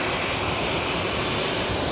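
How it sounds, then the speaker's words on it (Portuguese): Airplane departing at an airport, a loud, steady broadband engine roar with a high whine running through it throughout. "o avião vai sair lá, ó"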